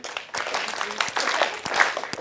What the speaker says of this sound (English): I don't normally get a round of applause at the start of my talk